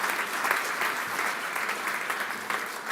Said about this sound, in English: A round of applause for these startups.